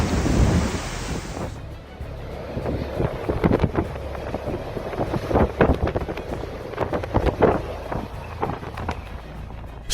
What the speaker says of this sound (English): Strong winds from Hurricane Isha transferred energy into the ocean, causing waves to grow larger as they approached Dunlaughere.